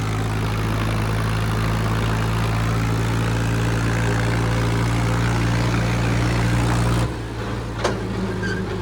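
Swaraj 744 tractor engine running at a steady, loud diesel drone with strong low harmonics up close, then cutting abruptly to a quieter idle near the end.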